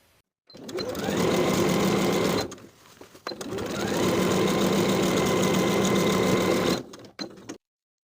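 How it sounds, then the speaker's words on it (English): A sewing machine stitching a row along a jumpsuit waist seam to form an elastic casing: two long, steady runs of rapid mechanical whirring near the microphone, separated by a brief pause, with short stops at the ends. "we're going to sew another row of stitches to create a casing"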